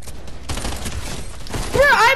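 Rapid gunfire in Fortnite, a dense burst of overlapping shots rattling near and loud, ending in a shrill ringing squeal, with voices speaking over it.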